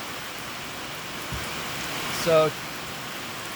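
Steady rain falls outside, a constant soft hiss filling the background, with a brief spoken word rising briefly above it near the end.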